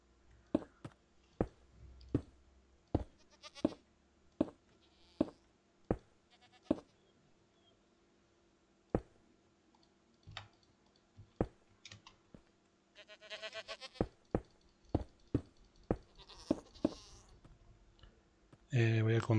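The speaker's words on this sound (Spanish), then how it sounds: "Tete cuidado con las cabras" Goats bleat in Minecraft, their short calls scattered among sharp, steady clicking that dominates the quiet scene, with a denser flurry of clicks near the end and someone talking at points.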